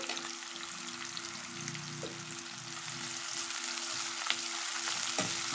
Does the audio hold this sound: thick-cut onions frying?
yes